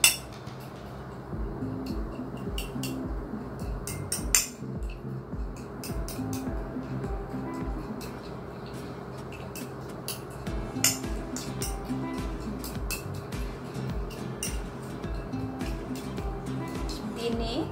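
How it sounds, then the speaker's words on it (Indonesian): Kiwi fruit is mashed with a fork on a plate, giving a steady run of light metallic clinks and scrapes of fork against dish at close range, with a few sharper taps. "Lalu kita letak di piring dan kita lumatkan pakai garpu"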